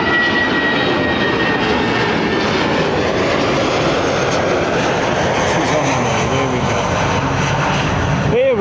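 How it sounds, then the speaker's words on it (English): Rolls-Royce Trent 900 jet engines on an Airbus A380 roar loud and close at London Heathrow, a sustained broadband rumble with a high whining tone, while people talk over it. "Full Rolls-Royce Trent 900 singing away, folks"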